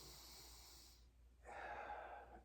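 Deep breathing during a back exercise: a long, breathy exhale, a short pause, then a fuller inhale, close and soft, with no speech.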